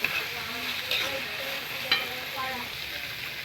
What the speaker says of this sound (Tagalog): Medyo lutuin natin ang chicken